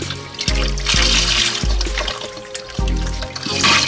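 Stock poured into a gumbo pot makes a steady liquid trickle and splash, coming in several separate pours with short pauses between them, close up and with no talking.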